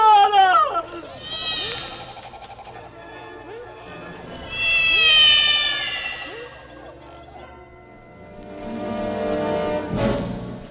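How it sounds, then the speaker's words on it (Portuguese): A cat meowing desperately while running, with long, rising wails repeating close by. "e o gato miando desesperado, correndo atrás"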